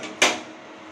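A metal kadai (wok) is set down on a kitchen stove, giving one sharp clanking knock that fades quickly and stands alone in the clip.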